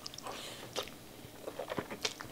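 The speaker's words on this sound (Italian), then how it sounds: "Quando sento l'asparago in bocca, che lo mastico croccante" Someone bites and chews crunchy asparagus close to the microphone, with a series of soft, irregular crisp crunches and mouth sounds and no talk.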